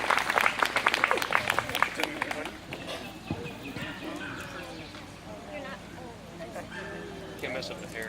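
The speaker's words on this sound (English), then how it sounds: "Round of applause for the oldest generation here." Family reunion crowd clapping for the oldest generation: a burst of dense applause at the start that fades into chatter and voices, with a dog barking faintly in the background.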